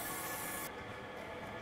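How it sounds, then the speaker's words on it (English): Flavor oil cooking spray is misted inside a baking pan being prepped for bread pudding: one steady, close hiss lasting under a second, then it cuts off and leaves quiet kitchen room tone. "we're just gonna take our flavor oil spray juice and we're gonna spray the inside"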